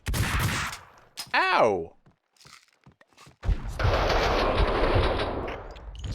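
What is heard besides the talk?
gunshots in the video game Max Payne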